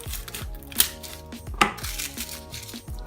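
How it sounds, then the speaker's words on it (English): Garlic cloves chopped with a knife on a board for low-carb bruschetta, a steady run of close, crisp knocks at an even rhythm, with two sharper louder hits, and no talking. "Use 2 cloves of garlic and cut them up into really small pieces."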